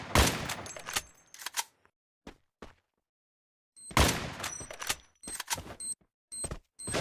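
Bursts of gunfire from a Free Fire match during a squad battle, with rapid volleys of sharp shots, a short quiet gap, then more clustered bursts and single shots.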